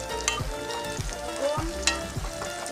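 Onion frying slowly in oil in a pan for a meat dish, a steady close sizzle with soft stirring scrapes and a few louder pops, heard alone without talk.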